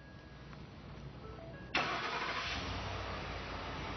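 A truck engine converted to run on natural gas is cranked over and catches after a quiet stretch, starting abruptly and settling into a steady, close idle.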